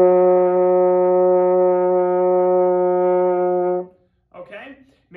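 A French horn sounds a single sustained open C played with no valves pressed, a steady, full, close tone held for nearly four seconds, then cut off, followed by a brief burst of speech.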